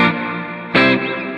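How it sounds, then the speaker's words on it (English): Electric guitar played through a pedal set to a 70s plate reverb, layered on top of spring reverb from the amp, giving a sustained, washy chord with one brighter strummed accent midway and a lingering shimmering tail. "typically use is the 70s reverb, which is a plate sound"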